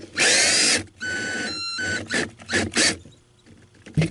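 Power drill driving screws to mount a charge controller inside an RV: loud, close whirring bursts that rise in pitch and then stop, several short runs with brief pauses between them.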